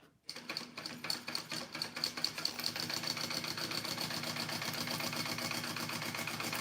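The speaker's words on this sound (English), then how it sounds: "And then you're gonna sew that together at the seam allowance mentioned in the pattern." Sewing machine stitching a purse seam, a fast steady mechanical rattle that starts after a brief pause and runs continuously, close and even.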